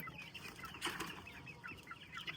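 Large, nearly market-ready chickens on a small poultry farm cluck in short, repeated bursts, fairly close and overlapping, with a louder flurry near the middle.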